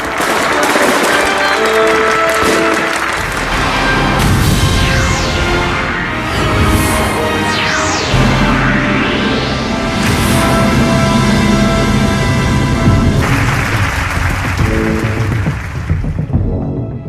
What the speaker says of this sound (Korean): 여러분들의 뜨거운 박수로 시작하도록 하겠습니다